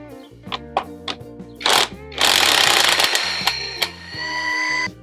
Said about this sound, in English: So let's use the impact to remove this bolt.